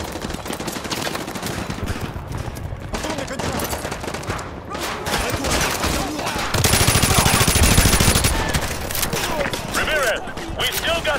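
Rapid bursts of automatic gunfire and explosions fill a Call of Duty: Modern Warfare 2 combat scene, dense overlapping shots with a heavier barrage midway, while voices talk over the firing.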